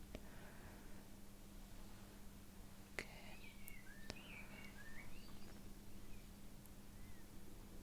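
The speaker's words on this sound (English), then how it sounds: "The birds are making some lovely songs today, aren't they?" Faint birdsong chirps and trills in the distance over a steady low hum, with a couple of sharp clicks.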